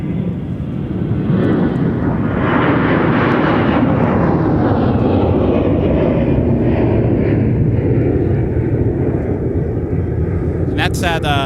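A large airliner departing Minneapolis–St. Paul airport on a flight to Phoenix, its engines roaring loudly and steadily through the takeoff roll and climb, with a commentator talking over the noise.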